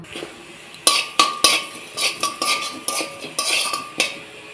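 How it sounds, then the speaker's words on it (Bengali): A metal spoon stirs cumin seeds and a bay leaf frying in a pan on a gas stove, with repeated sharp clinks and scrapes against the metal in an uneven rhythm, close and fairly loud with no talking. "তো এটাকে এখন ভালোভাবে একটু নেড়ে চেড়ে ভেজে নেব"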